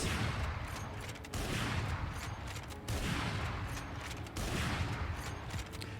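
Operator sniper rifle shots in Valorant, fired unscoped while standing still: loud, heavy booming reports spaced about a second and a half apart, each with a long ringing tail.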